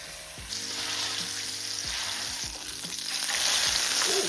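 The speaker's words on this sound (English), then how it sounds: "Fry this on medium to high heat until it looks golden brown" Onions fry over medium-high heat in a pan, giving a steady loud sizzle with a few clinks of a utensil stirring, and the frying grows louder toward the end.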